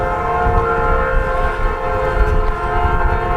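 A train whistle blows loud and steady over low rumbling rail noise, continuous throughout with no talking.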